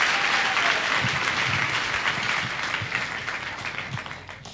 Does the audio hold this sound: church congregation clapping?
yes